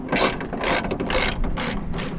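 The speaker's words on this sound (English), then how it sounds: "To get the motor off, there's 3 bolts right here, and right here. And those are a 10mm." A ratchet wrench clicks rapidly in quick bursts while loosening 10mm bolts holding a motor in place, close and loud with a busy mechanical rattle throughout.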